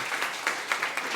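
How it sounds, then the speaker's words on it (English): Brief audience applause for a final speaker at a talk on cutting waste, a steady wash of many hands clapping with no voices over it. "can we have a round of applause for our final speaker"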